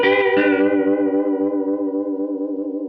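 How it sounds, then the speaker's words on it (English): A Walrus Audio Julia analog chorus pedal with lag and depth turned fully up gives one sustained guitar chord a deep, warbling pitch wobble that slowly decays over three seconds, with no talking. "if I have this lag all the way up, and then I go like all the way up on the depth as well, we can start to get some crazy sounds"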